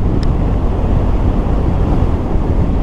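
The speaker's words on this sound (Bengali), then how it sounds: "বাপরে কি হাওয়া, ও বাবা, ওরে বাপ রে বাপ, গাড়ির চাকাই বেঁকে যাচ্ছে।" Strong gusty wind roars and buffets the microphone while riding motorbikes on the road from Leh to Kargil in Ladakh, a loud, constant low rumble with no voices heard.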